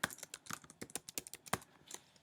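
Quick, uneven keystrokes on a computer keyboard while typing text in design software, close and fairly quiet, a short burst of clicks with no talking.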